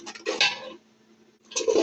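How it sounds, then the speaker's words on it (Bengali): A spoon scrapes and stirs spices in a cooking pot for khichuri in two short bursts of rubbing and clinking, close by and separated by a brief pause. "দিয়ে মশলাটা নেড়ে দিব।"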